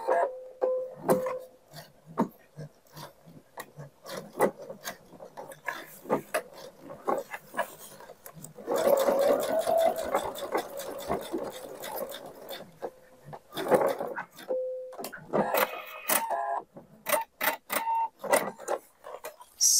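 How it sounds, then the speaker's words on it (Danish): Home sewing machine stitching fabric for a baby changing bag, with short rapid whirring runs, a longer sustained stitching burst in the middle and clicky starts and stops, close and fairly loud without speech. "Og den skal vi også lige ind og give en stikning, inden vi syr videre."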